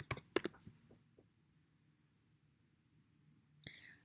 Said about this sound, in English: trying to click out of that little pop-up there